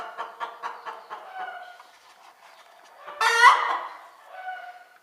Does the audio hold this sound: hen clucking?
yes